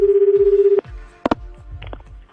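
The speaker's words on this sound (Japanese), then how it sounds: "じゃあ、久々に滝沢にでも電話してみますか" A telephone call being placed: a steady pulsing ringback tone, then the click of the line connecting and faint handset noises.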